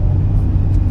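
Interior drone of a Mazda Miata RF engine while driving, a steady low-pitched rumble held at low RPM, loud and continuous with no talk over it.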